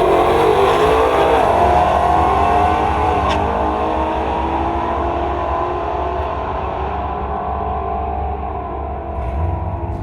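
Loud, sustained roar of a Mustang drag car launching and pulling hard down the strip at night, engine revving up through gears for the full stretch before easing slightly near the end.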